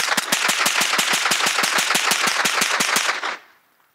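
An AR-platform rifle fires about twenty shots in rapid, evenly spaced succession, loud and close, before the firing stops abruptly and leaves a brief fading tail.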